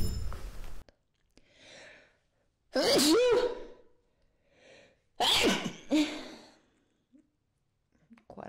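Loud, close sneezes burst out in a sharp sequence, the strongest pair a couple of seconds apart, with quieter breaths and sighs between them.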